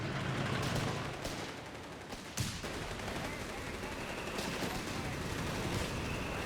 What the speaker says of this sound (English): being pinned down by this heavy machine gun